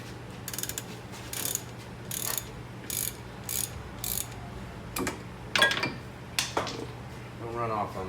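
A ratchet with a 14mm socket works a brake caliper bracket bolt loose on a 2013 Kia Sportage, giving a series of sharp, close ratcheting bursts in an uneven rhythm, with metallic clinks between them.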